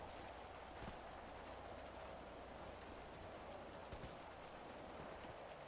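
Rain in the GTA 5 video game, a dense, steady hiss of falling rain with a low rumble beneath and a few faint thumps, even and sustained throughout.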